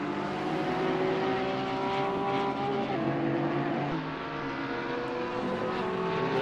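Porsche race car from the Smith Racing team in a sim GT racing game at Mugello, its engine droning as a steady, loud, layered whine that holds for the whole stretch, with other cars faintly blended in and no talk.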